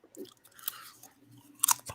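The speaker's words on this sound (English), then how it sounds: "I was chewing so quietly" Crunchy food chewed close to the microphone gives soft irregular crunches and mouth sounds, ending in a sharper, louder crunch burst near the end.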